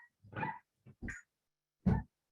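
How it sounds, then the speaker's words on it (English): A dog at home lets out a few scattered barks and yips, fairly faint and spaced apart, with quiet pauses between them. "I'm working from home, so my dog will say that he wants to behave badly."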